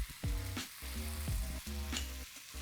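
Ginger garlic paste fries in oil with curry leaves, a close, steady sizzle with bursts of spluttering and stirring scrapes over a couple of seconds.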